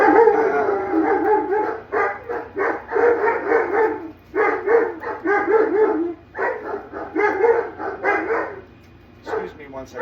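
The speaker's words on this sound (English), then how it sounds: "I'm going to have to go see what these dogs are barking about." Several dogs bark, yip and howl close by in repeated clustered bursts separated by brief pauses, loud and continuous across the whole stretch.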